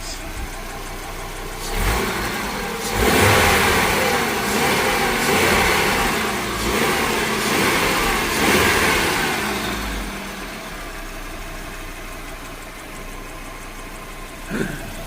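An Audi 100 C4 with the 2.3E five-cylinder engine runs nearby, its steady mid-pitched hum swelling slightly in the middle and easing off toward the end, with a person speaking over it.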